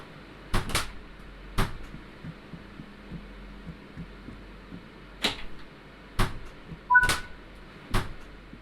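Train doors closing in the Train Sim World 5 railway simulator, a series of sharp, separate thuds and clunks spaced irregularly over several seconds against a low, quiet hum, with a short electronic beep in the middle.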